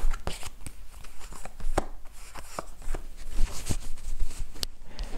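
Tarot cards being shuffled by hand, a run of sharp, crisp flicks and taps repeating unevenly over several seconds, close and fairly quiet with no talking.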